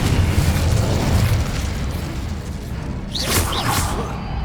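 Confringo fire spell exploding in Hogwarts Legacy, a loud burst followed by a roaring, crackling blast that carries on and fades, with sharp whooshing flares near the end.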